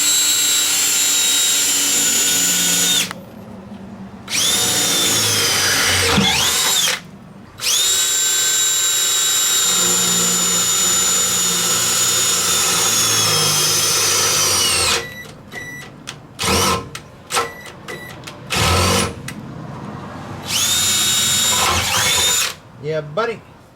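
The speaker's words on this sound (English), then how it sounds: "Drilling through a weld and a couple of different, 2 pieces there." A power drill whines loudly as it bores a 5/16-inch hole through a steel weld and two steel pieces while installing a trailer hitch on a Ford Panther-platform car, in long sustained runs, stopping and restarting with brief pauses.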